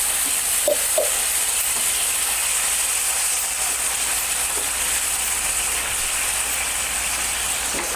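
Tomato puree hits hot oil with ginger-garlic paste in a pan for restaurant-style bhindi masala, and a loud, steady sizzling hiss continues unbroken throughout.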